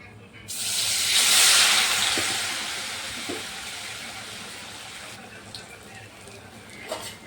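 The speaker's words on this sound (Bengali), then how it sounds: "এইভাবে আমি একটা একটা করে দিয়ে তারপরে ভাজবো" Pumpkin leaf fritters coated in gram flour drop into hot oil and set off a loud, broad hiss. The hiss fades to a quieter sizzle, with a few light clicks near the end.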